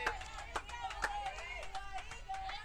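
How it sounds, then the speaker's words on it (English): Players on a Manila softball team bench cheer and clap in a sparse, uneven rhythm, with sharp hand claps and shouted encouragement at a moderate distance during a school game. "The Manila bench trying to get some life into the team here, cheering the Izzy Poe on."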